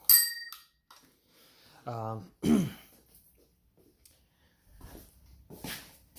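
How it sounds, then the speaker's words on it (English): A small bell gives a couple of bright metallic dings, separated by quiet gaps and a brief throat-clearing sound. "Got this little bell."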